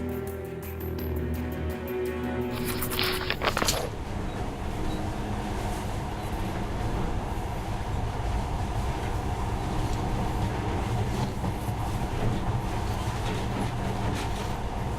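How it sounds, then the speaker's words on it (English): A monorail train runs in Metro Last Light Redux, a continuous heavy rumble with a rattling roll that holds steady and fairly loud after a brief mechanical clatter at the start. "In the past, trains were ordinary things, but now, this monorail seems magic, doesn't it?"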